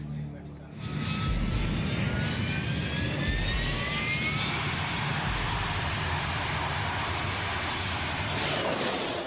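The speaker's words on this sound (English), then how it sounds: "The Prowler, call sign EZ01, approaches the runway." An EA-6B Prowler military jet on a runway before takeoff, its engines producing a loud, steady roar with a rising whine that holds throughout, while a voice talks over it.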